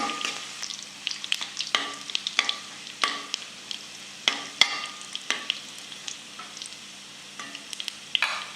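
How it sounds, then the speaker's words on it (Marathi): Garlic frying in hot oil for a kadhi tempering, a steady close sizzle broken by repeated sharp scrapes and taps of a stirring spoon against the pan, with no talking. "लसूण चांगला लाल होऊन द्यायचा, म्हणजे कढीला अशी खमंग एक लसणाची टेस्ट येते"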